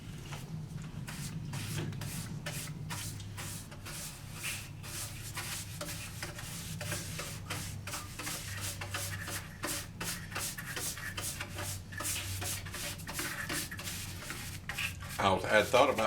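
Shellac and linseed oil finish, thinned with denatured alcohol, is rubbed by hand onto a wooden wall-hanging tool cabinet, making a steady close scrubbing and wiping texture with rhythmic strokes over a low background hum.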